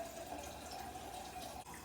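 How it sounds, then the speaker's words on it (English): Filtered water runs steadily from a kitchen tap into a jar, a continuous close hiss and splash that holds at even loudness with a brief dip near the end, no voices. "I'm just going to fill up my jar with some filtered water from the tap."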